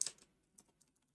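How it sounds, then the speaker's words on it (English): Keys tap on a computer keyboard, with a sharp first burst followed by a few quieter, scattered clicks that fade out. "I have to read when I'm typing as well"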